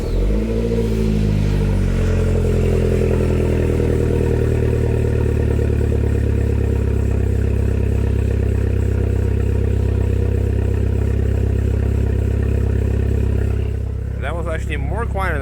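A Saab 9-5 turbo engine runs steadily with its exhaust opened right at the catalytic converters ahead of the muffler, giving a loud, constant low drone that settles after a brief rise at the start and dips near the end.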